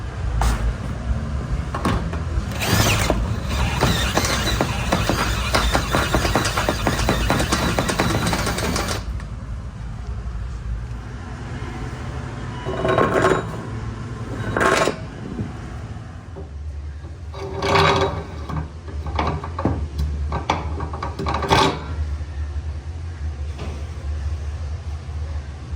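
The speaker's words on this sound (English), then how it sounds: "So we are trying another unibit, and hopefully it'll work." Unibit step drill boring through the steel of a trailer, a rough grinding buzz for several seconds, then short intermittent bursts of drilling separated by quieter pauses.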